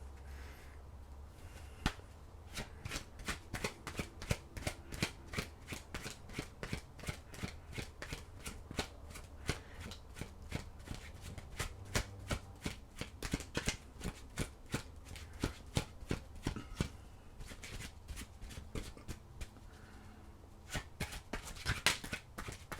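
Tarot cards are shuffled by hand, a long run of rapid, crisp riffling flicks close up and fairly quiet, continuing steadily without talk.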